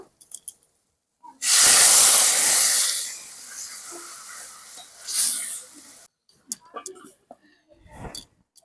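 Water is poured into sizzling spices, turmeric and salt for a small river crab and pumpkin curry, bursting into a loud, sharp hiss that fades over a few seconds, followed by a second softer hiss and scattered small clinks.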